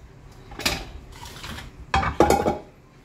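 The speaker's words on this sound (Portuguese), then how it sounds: "Deixa eu lavar aquela panela." A cooking pot is handled in a farmhouse kitchen before washing: a few sharp metallic clanks and knocks, close and separated by short pauses.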